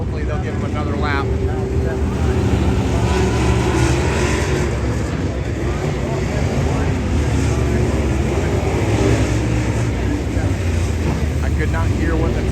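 A modified race car running a qualifying lap at Winchester Speedway, a loud, continuous engine roar that fills the whole stretch, with faint voices under it.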